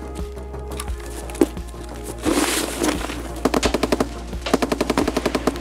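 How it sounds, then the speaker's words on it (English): Automatic gunfire in Escape from Tarkov, a burst midway and then rapid regular volleys of sharp shots near the end, fairly close over a low steady game hum. "We're shooting at people up a skeleton right now."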